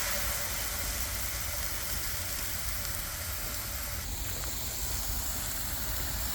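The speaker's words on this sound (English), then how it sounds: "Listen to this sizzle." Steady, dense sizzling hiss of chicken frying in a hot pan, continuous and close, with no talking.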